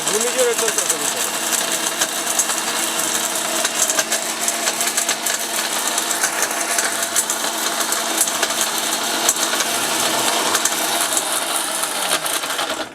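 Close and loud, a Miyako 1400-watt kitchen blender keeps grinding dried turmeric in a rattling, constant whir, then cuts off abruptly at the very end.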